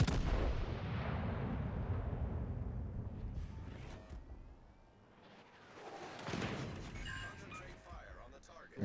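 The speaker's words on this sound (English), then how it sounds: "Concentrate fire on the target." Heavy warship guns boom in a World of Warships naval battle, a loud blast trailing off into rumbling decay, then another burst of firing and explosions a few seconds later, with game voices over the top.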